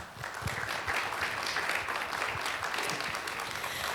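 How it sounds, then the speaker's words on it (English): Applause from a town hall audience after a democracy panel, a full, continuous round of clapping that stays steady throughout. "If everyone can give them a round of applause."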